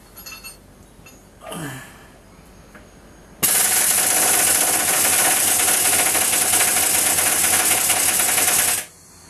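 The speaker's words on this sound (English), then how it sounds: "My little rattle gun, I'll get this undone." A pneumatic impact wrench rattles loudly and continuously for about five seconds while trying to undo a bolt on a Nissan, after a brief faint whir, then stops abruptly.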